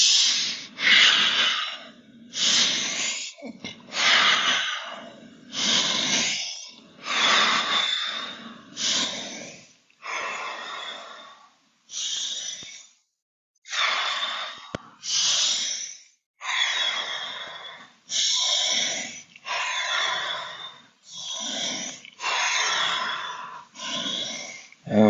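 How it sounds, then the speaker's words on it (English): Fast, forceful breaths during a guided fascia and recharge exercise, a long run of quick, noisy inhales and exhales in bursts with short pauses, close and clear with no talk over them. "Fast breathing."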